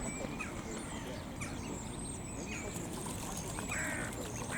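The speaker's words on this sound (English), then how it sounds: "Bird calls." Ducks and geese calling as they bathe in water outdoors, a steady wash of quacks and honks over constant background noise, with scattered bird calls throughout.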